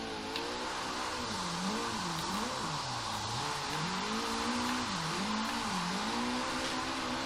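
Nissan Silvia S14 engine in Forza Horizon 3, driving uphill, revving in repeated rising and falling sweeps as gears shift, loud and close throughout with no talking.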